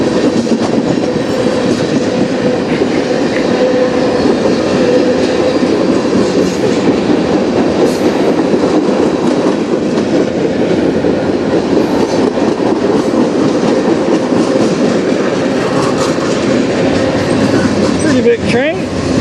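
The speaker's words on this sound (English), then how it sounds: "Pretty big train." A long CN freight train passes close by in Sarnia, Ontario, with a steady loud rumble and rhythmic clickety-clack of wheels over rail joints throughout.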